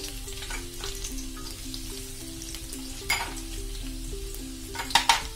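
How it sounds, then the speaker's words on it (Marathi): Garlic fries in oil in a kadhai for a chicken 65 masala gravy, a steady sizzle with occasional stirring clatter over a low tonal hum. "ग्रेव्ही तयार करण्यासाठी आपण सुरुवातीला तेल टाकले कढईमध्ये, आपण लसूण टाकणार आहे"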